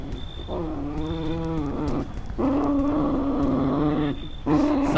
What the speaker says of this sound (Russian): Соседская собака.